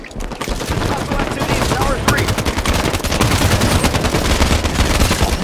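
Dense, continuous automatic gunfire in Halo 5 Big Team Slayer on the Guillotine map, loud, rapid bursts overlapping for the whole stretch with other battle noise beneath.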